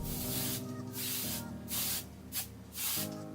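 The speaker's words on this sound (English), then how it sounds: "taking the Joico hairspray for the last time" Joico hairspray is sprayed onto curled hair in several short hissing bursts of varying length, close and fairly loud, with brief pauses between them.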